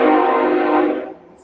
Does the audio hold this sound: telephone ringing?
no